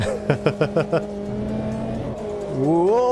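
Formula Inter race car in the Automobilista 2 sim racing game, engine blipping through a rapid run of downshifts, then a steady tone and rising revs as it pulls away, with a voice speaking over it.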